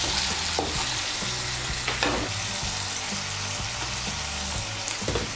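A spatula stirs stuffed pointed gourd filling in hot oil in a pan, with a loud, constant sizzle and frying hiss under repeated scraping strokes, close up and without speech.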